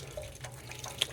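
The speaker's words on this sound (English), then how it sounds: "drizzle it in, rinsing the grains, trying hard not to disturb the grain bed" Hot water poured slowly from a Pyrex cup over a bed of grains while sparging during beer brewing, producing soft trickling and dripping with a brief brighter splash near the end, no voices.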